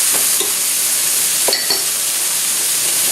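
Green beans sizzle steadily in melted butter in a pan, a dense continuous frying hiss with a few brief clinks and stirring scrapes, no voices.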